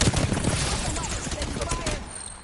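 Rapid R-99 submachine gun fire in a video game rattles steadily for a couple of seconds, dense and close, with voices talking over the shooting and a slight fade toward the end.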